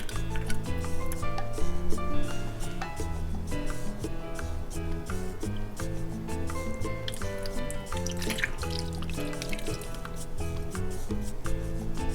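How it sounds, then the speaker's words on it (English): Manzanilla olives from a 3-ounce jar slosh into leftover tomato sauce while cooking a Latin chicken stew, giving steady wet dripping and squishing over continuous background music. "I'm gonna pour them in here to get out the rest of the tomato sauce."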